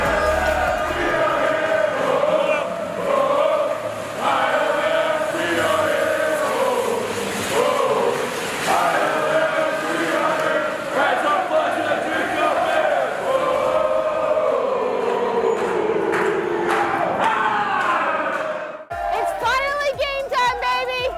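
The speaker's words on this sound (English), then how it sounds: "ILF was marching down the streets, chanting and cheering with the same amount of passion and pride" ILF supporters march through the street before a match, a large crowd chanting in rhythmic unison with cheers rising over it, loud and sustained, cut off near the end by a short burst of different, louder sound.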